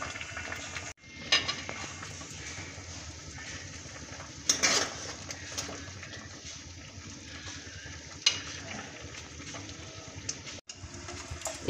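Sugar syrup for carrot murabba simmers in a pot, a low bubbling hiss with occasional louder clinks and stirring knocks against the pan.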